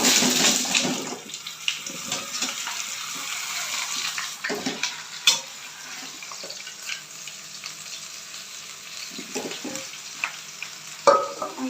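Mango pieces frying with bay leaves and mustard in a pan for a sweet-sour-spicy mango pickle, a soft hissing sizzle with a few intermittent stirring scrapes, fairly quiet and without talk.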